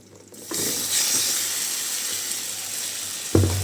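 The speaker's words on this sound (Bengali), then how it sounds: "এখন আমি দিয়ে দিচ্ছি সেই মেখে রাখা মাংসগুলি" Marinated chicken pieces hit a hot pan with whole cumin, bursting into a loud, steady sizzling hiss that holds for a few seconds before a clunk at the end.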